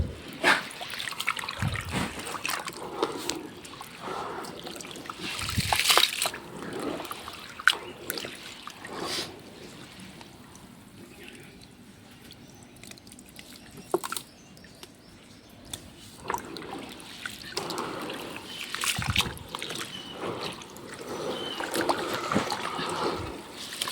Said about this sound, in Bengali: তো ভালো করে আমি চটকে ধুয়ে নিচ্ছি গমগুলো